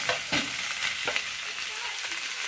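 Pork sizzles and crackles on a Thai mookata tabletop grill, a steady frying hiss broken by a few louder pops and stirring scrapes.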